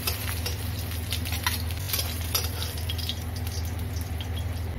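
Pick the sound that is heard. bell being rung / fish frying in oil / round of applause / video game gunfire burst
fish frying in oil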